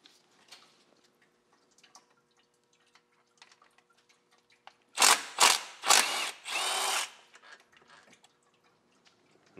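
Bolts are removed from the lower starter and bell housing under a Bugeye Subaru WRX during engine removal: a power tool whirs in four loud bursts midway, with faint ticks and clicks before and after.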